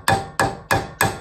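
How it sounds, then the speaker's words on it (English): Four evenly spaced sharp hammer taps on a metal flange, struck against a heavy hammer held on the other side during a Toyota MR2 Spyder SMT solenoid repair; close, crisp metallic strikes about a third of a second apart, no talking. "hold a hammer on a heavy hammer on one side of it and tap on the other like that"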